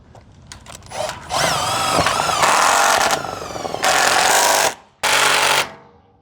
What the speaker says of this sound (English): when you're drilling, you don't over drill because you can actually crush the Colorbond